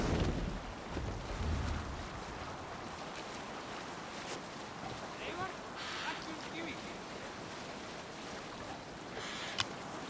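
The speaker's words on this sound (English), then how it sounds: "You must row in these waters." Boat under sail on open water in Assassin's Creed Valhalla, a steady wash of wind and waves with hull and water rushing throughout, fairly loud and continuous, with a brief click near the end.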